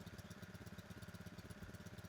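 A 30 m³ petrol motor pump engine runs steadily after a pull start, its close, loud, rapid chugging pulsing evenly throughout with no talk.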